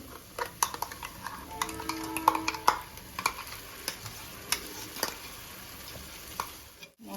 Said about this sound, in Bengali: মশলার সাথে এটা নেড়ে নেবো একবার